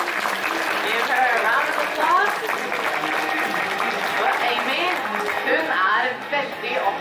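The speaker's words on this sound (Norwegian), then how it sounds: "Give her a round of applause." Audience applause at a sea lion show in an arena, steady clapping from a crowd throughout, with an announcer's voice talking over it.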